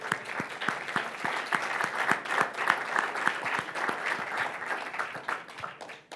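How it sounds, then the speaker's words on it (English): An audience at a tech talks conference applauds steadily, a dense continuous round of clapping from many hands held at a constant level throughout. "I'd like to give them a round of applause first."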